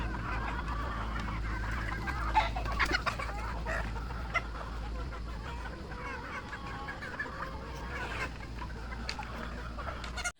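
Free-range gamefowl chickens on a game farm clucking and murmuring steadily over a constant low rumble, with scattered louder squawks rising from the flock; no one speaks.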